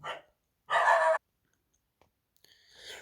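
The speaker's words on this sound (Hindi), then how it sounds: "अरे कुत्ता भौंक रहा है" A single sharp dog bark rings out clearly in an otherwise quiet room, followed by faint clicks and a soft noise near the end.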